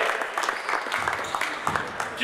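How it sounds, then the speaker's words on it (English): Scattered applause from a small group of players at a basketball coaching clinic, a brief patter of claps around the court under ongoing crowd noise and a coach's voice. "Give him a clap."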